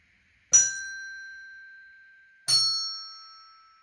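Two struck tuned bell-like notes, sol and mi, sound one after the other about two seconds apart, each ringing clearly and decaying slowly, with no voices over them.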